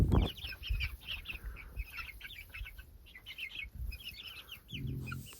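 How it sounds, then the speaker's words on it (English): Chickens and young chicks chirp and cheep together in a coop on a farm, giving a busy stream of high tweets with some low clucks and a brief rustle near the end. "there's some chicks in there that were from the neighbors"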